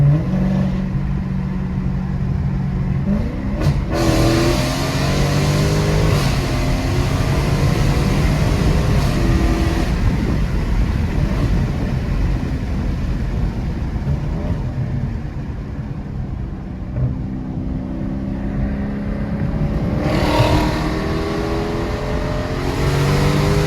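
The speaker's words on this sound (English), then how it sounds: "Y'all hear that popping? It backfires like crazy, especially when it's cold outside." A Dodge Charger Scat Pack with the 392 engine drones steadily during a night drive, its exhaust loud and close, with a few sharp pops breaking through the continuous engine roar.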